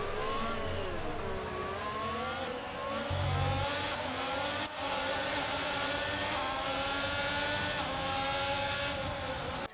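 Formula 1 race cars in F1 22 scream past during a double overtake, high-pitched engines rising and shifting through gears, loud and continuous with overlapping cars, no speech.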